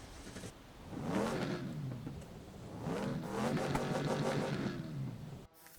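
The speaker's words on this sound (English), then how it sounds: "That was the ignition of the car." A car engine in a Need for Speed game cranks and catches, running in two rough, revving swells before cutting off abruptly with a click.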